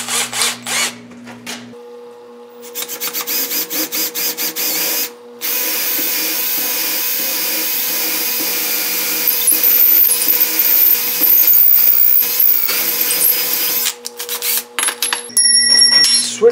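A drill boring into wood with a 5/16 inch bit while a suspended bait trap is being built: a steady high whine runs for most of the clip, with brief stops and restarts near the start and end.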